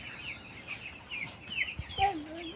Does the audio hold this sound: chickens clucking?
yes